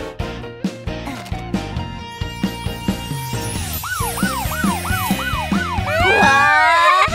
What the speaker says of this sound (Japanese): これはパトカーだ。